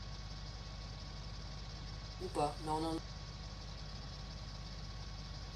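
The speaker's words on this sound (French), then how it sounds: "Du coup, suis le tracteur." A tractor engine idles steadily at a farm in Brittany, a low continuous rumble running throughout, with a brief burst of speech near the middle.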